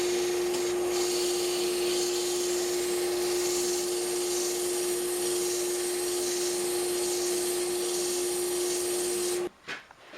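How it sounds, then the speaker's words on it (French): Wooden pepper mill being sanded with coarse 40-grit sandpaper on a wood lathe: a steady, close abrasive hiss over a constant motor whine that runs for about nine seconds, then cuts off abruptly. No voices. "on va sabler aussi des deux côtés"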